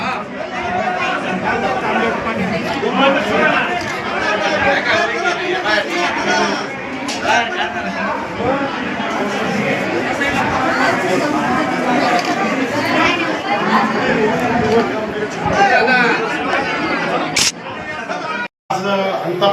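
Steady crowd chatter and overlapping voices fill the 127th birth festival of Shankar Maharaj in Antapur village, a dense, lively babble throughout with a brief sharp click near the end.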